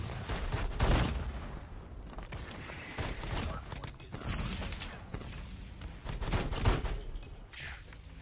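A LAG 53 assault rifle fires in Call of Duty in repeated bursts of rapid shots, with mechanical clatter and a voice talking over the busy game action.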